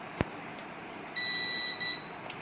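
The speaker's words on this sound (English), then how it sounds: "We'll press it, it will make a beep" A sharp click, then a steady high-pitched electronic beep lasting under a second with a brief dip, in a quiet room.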